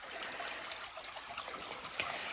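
Creek water trickles over rocks in autumn leaves, a soft, close babbling with small bubbling splashes, fairly quiet and continuous with no voices.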